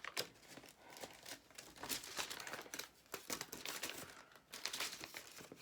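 Paper from a journal kit being trimmed, with a crisp run of crinkling, snipping rustles that come close and fairly loud in uneven bursts, and no talking.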